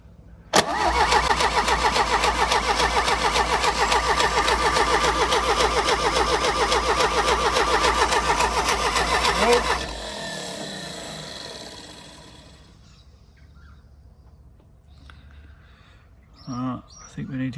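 A John Deere 2010 diesel tractor engine, starved of fuel, cranks loudly on its starter motor in a steady, rapid rhythm for about nine seconds, then stops, leaving faint background noise and a few short knocks.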